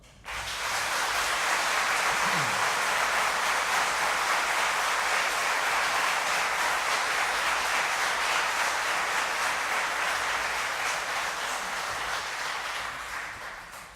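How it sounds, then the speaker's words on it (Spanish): Sustained applause from a large crowd at a lawyers' swearing-in ceremony, steady and dense for the whole stretch before tapering off at the end. "El público les puede brindar un merecido aplauso."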